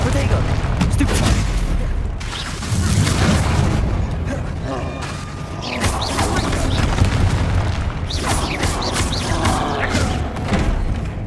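Spell combat in the video game Hogwarts Legacy, a Stupefy cast among a fast exchange of attack and shield spells, with dense, continuous booms and magical blasts that stay loud and layered throughout.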